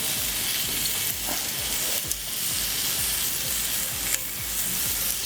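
Wagyu denver steak sears on a cast iron plancha over a Big Green Egg fire, giving a steady, close sizzle and crackle of frying meat with a few small pops, no voices.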